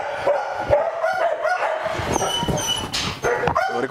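Close, loud barks and yips from a Baladi dog named Nutella come in quick irregular bursts, with some higher whining notes between them.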